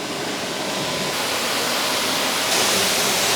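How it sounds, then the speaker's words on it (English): Water sprays over the body of a Toyota GR Supra during a rinse before washing, a loud continuous hiss of spray close by that stays steady throughout with no voices. "Now I'm going to thoroughly rinse the surface."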